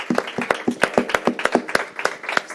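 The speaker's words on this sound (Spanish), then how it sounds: "Le podemos dar un fuerte aplauso al Señor." Sharp, distinct hand claps ring out in a church as a small group applauds the Lord, the beats clear and rhythmic, moderately loud and close, with no voices during the burst.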